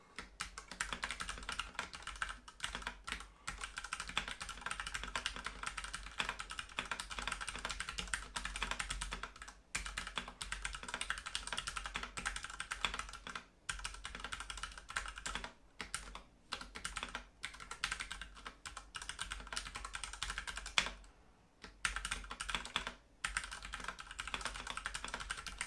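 Fast, continuous typing on a Ducky One 2 Mini keyboard with Cherry MX Red switches, its feet on the higher setting: close, steady keystroke clatter with brief pauses, no talking.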